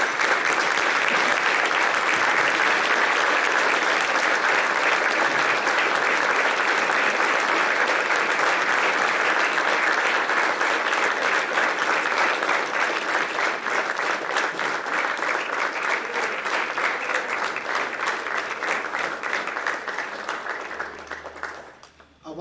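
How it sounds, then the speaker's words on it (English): A crowd at a school sports banquet rises in a standing ovation, sustained loud applause and clapping filling the room before tapering off at the end. "please join me in giving a standing ovation for Rusty Thomas"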